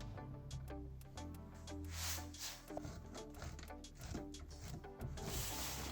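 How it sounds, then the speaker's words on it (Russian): Processed sausage cheese rubbed against a coarse grater in a kitchen, giving a steady run of rhythmic rasping strokes, close and fairly loud, over a constant tonal background with no talking. "Натираем его на крупной терке."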